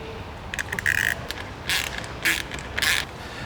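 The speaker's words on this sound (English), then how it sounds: "This is where having our ratchet Allen key comes in handy." A ratchet Allen key tightens bolts on rear diffuser winglets of a Cerato GT hatch, giving several short bursts of clicking ratchet pawl close up, separated by brief pauses.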